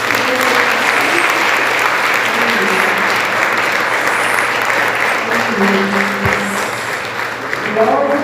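A church congregation applauds the Lord in a sustained, dense wash of clapping that stays steady and loud throughout, with some voices mixed in beneath it.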